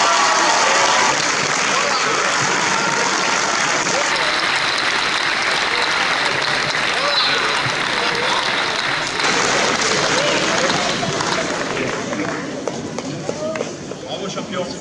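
A crowd at the French youth chess championship prize ceremony in Agen applauds a young champion, sustained loud clapping that continues for over ten seconds, with voices and cheering mixed in, before easing slightly at the end.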